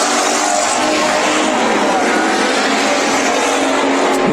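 Race cars roar through a heat race at Bakersfield Speedway, a loud, continuous dense engine blare as the pack battles for the lead, steady throughout without pause.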